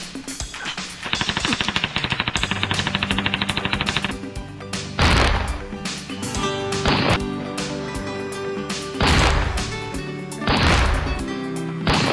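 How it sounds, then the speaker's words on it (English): Rapid bursts of machine gun fire rattle loudly with heavy booming impacts and crashes, a dense shootout in the film Mr. Stitches with music underneath. "why did the sheriff bring a pistol when Dale brought a machine gun?"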